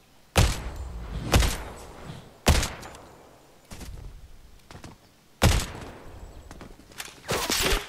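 Sniper rifle shots ring out in a video game, five or six sharp loud cracks spaced about a second apart, each followed by a short echoing tail, with quieter gaps between them.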